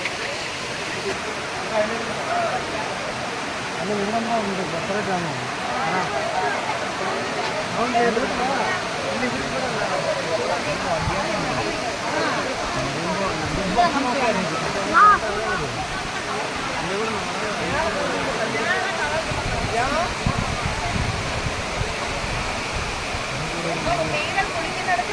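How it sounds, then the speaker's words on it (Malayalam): Courtallam Main Falls in Tamil Nadu roars in a constant, rushing wash of water, with a person talking over it now and then. "ഒഴുകി വരുന്ന വെള്ളം കാണാൻ എന്ത് ഭംഗിയാണ് അല്ലേ"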